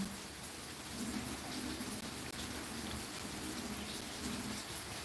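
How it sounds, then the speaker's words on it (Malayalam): A heavy downpour hisses steadily, with a faint low rumble rolling underneath throughout. "ഇവിടെ നല്ല തകൃതിയായിട്ട് മഴ പെയ്തുകൊണ്ടിരിക്കുന്നുണ്ട്"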